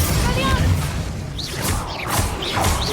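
Spell explosions from the Hogwarts Legacy video game, several crashing blasts and whooshes in quick succession over a dense rumbling background, with game speech around them.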